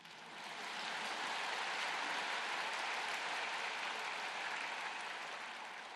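A church congregation breaks into applause, swelling quickly into a broad, even wash of many hands clapping that holds steady for several seconds before easing slightly at the end.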